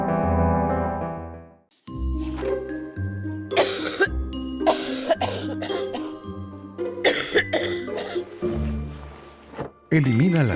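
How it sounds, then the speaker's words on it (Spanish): Coughing in a Vaporex cough-remedy advertisement for phlegmy cough, several sharp bursts over jingly music, chimes and an announcer's voice, loud and close throughout. "Elimina la tos con flema."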